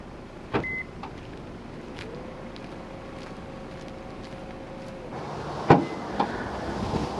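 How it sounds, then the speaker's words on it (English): Power liftgate on a 2024 Lincoln Nautilus Reserve opens with a steady electric motor whine lasting a few seconds, framed by faint clicks and a latch clunk near the end; quiet and close, with no talk. "It is a power opening and closing lift gate."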